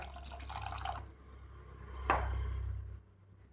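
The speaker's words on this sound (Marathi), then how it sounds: "तर आता आपण याच्यात पाणी घालूया" Water pours into a pan of dhaba-style paneer ghotala with a gurgling, splashing rush, fading after a second, then a second pour with a sharp splash and steady flow.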